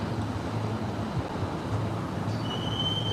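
Swiss passenger train running on rails, a steady low rumble of wheels and carriage with a thin, high squeal rising near the end, heard from on board.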